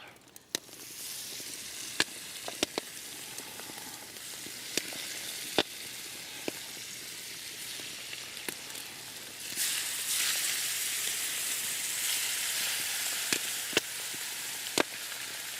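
Continuous sizzle of walleye fillets frying in a pan fills the clip, growing louder partway through, with occasional sharp clicks and taps of utensils.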